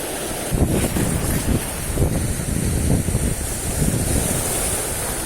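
Strong ocean waves crash and churn at a fishing spot, a loud, close surge with rising bursts of surf and gusting wind buffeting the microphone, with no voices.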